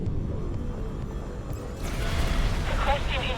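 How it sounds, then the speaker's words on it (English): Spaceship exploding in X4 Foundations, a sudden broad burst of noise that swells out of a low background hum partway through and lingers as crackling debris, with speech nearby. "That was a unusually large explosion."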